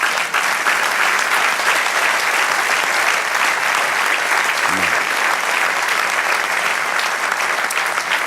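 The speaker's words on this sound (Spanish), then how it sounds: "Dale un aplauso al Señor." Steady, dense applause from a church congregation fills the space, loud and continuous throughout with no voices rising above it.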